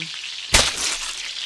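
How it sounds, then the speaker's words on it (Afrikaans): Fat sausages frying in a pan of hot oil give a steady close sizzle, broken by one sharp loud pop or burst partway through before the crackling hiss carries on. "3 vet worsies braai in die pan."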